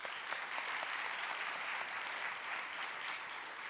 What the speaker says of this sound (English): Can we give them a round of applause in their absence?